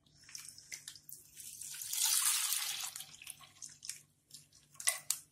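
Half a litre of milk poured from a container into a kadai (wok) on a gas stove, a steady liquid gush swelling in the middle of the pour amid faint tapping and handling sounds.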